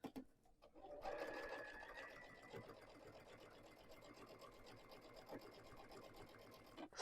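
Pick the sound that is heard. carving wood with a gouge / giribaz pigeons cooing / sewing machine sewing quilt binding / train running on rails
sewing machine sewing quilt binding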